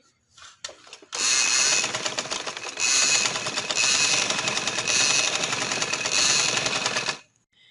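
A sewing machine stitching a light green trouser runs in a fast, steady whir for about six seconds, close and loud, after brief handling noises, then stops.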